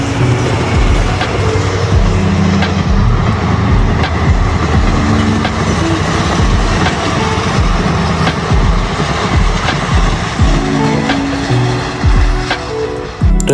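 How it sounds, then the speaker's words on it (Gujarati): A train rolls past a level crossing near thorny babul wood being cut, a loud continuous rumble with rhythmic clatter of wagons over the rails throughout, close by and alone. "ત્યાં તો આવી ગઈ ટ્રેન"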